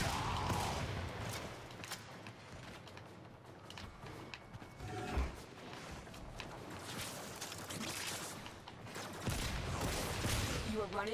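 Zarr cannon in barrage mode firing in Warframe, rapid bursts of shots and explosive impacts in a dense, chaotic run of gunfire mixed with game effects and a voice talking over it.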